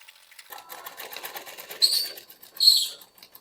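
A sewing machine stitches plain, unfolded cloth during beginner stitching practice. A soft rattling run of stitches builds up, then two louder short whirring bursts follow, close and alone.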